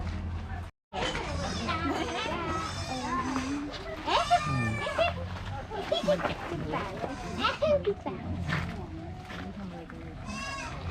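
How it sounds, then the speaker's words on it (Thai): Goats bleat repeatedly at a mini zoo in Chiang Mai, close and lively, while visitors and children chatter excitedly around them throughout. "แพะอยู่ข้างใน"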